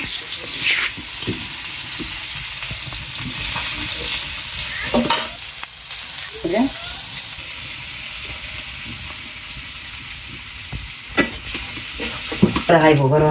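Onions fry in oil in a wok for a puti fish curry, giving a loud, steady sizzle. Scraping stirring strokes break through at irregular moments, and faint voices can be heard in the background.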